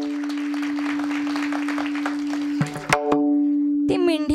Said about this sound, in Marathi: जोरदार टाळी वाजवा बरं.